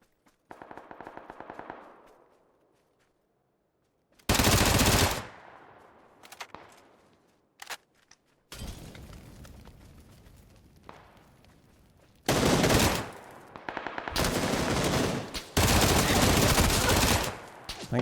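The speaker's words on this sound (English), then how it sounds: "I feel like that was probably him shooting" PUBG gunfire on console: several loud bursts of automatic fire separated by silences, with scattered single shots and quieter distant shooting between them.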